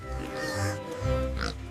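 Cartoon pig oinking on a farm, several grunting oinks close up and fairly loud, with a voice-like character and little pause between calls across the short span.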